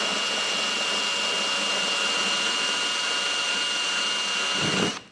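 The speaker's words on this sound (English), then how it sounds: "we'll drill a 2¼-inch hole for our opening" A power drill with a 2¼-inch hole saw cuts through a vehicle bumper while installing a Roadmaster Direct-Connect base plate on a 2023 vehicle, a loud, steady, high-pitched whine that holds evenly for about five seconds before spinning down abruptly at the end.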